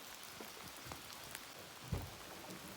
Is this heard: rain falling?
yes